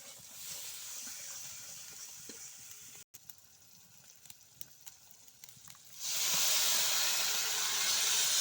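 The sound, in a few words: water added to hot spiced masala in pan, hissing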